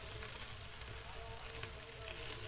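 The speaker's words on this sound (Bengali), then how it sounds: "এরপর চাটু বসিয়ে তেল দিয়ে দিচ্ছি। এরপর আস্তে আস্তে পরোটাটা দিয়ে দেবো।" Aloo palak paratha frying in oil on a hot tawa, giving a steady, soft sizzle with faint crackles, close and quiet throughout with no one talking.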